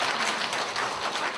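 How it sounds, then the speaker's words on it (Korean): Sustained applause from an audience at a national sijo poem recitation contest, clapping steadily in support of a contestant; a dense, even wash of hand claps with no talk over it. "응원 박수 부탁드립니다"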